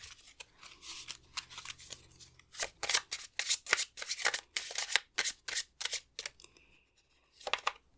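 Tarot cards are shuffled and drawn by hand, a rapid series of crisp riffling and flicking bursts, close and fairly quiet, with a short pause before a final flurry.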